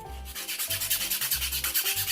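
A screwdriver tip being filed down in quick, even back-and-forth strokes, about a dozen close rasping scrapes in steady rhythm with no talking.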